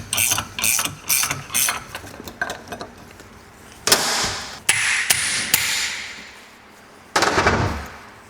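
A ratchet wrench tightening a bolt hard, rapid bursts of pawl clicks in short repeated strokes, then a few longer loud grinding pulls with pauses between, close and clear with no talking.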